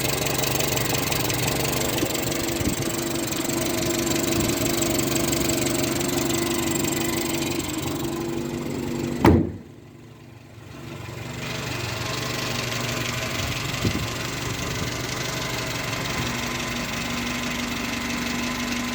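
A Renault 12 TS phase 2 with a twin-choke carburettor idles steadily and close by, a brief dip near the middle interrupting an otherwise even, continuous hum.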